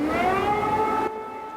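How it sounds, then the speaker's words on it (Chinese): An air raid siren wails over Kyiv, a loud sustained tone with rising harmonics that cuts off abruptly, leaving quieter background hum. "防空警报声音当中"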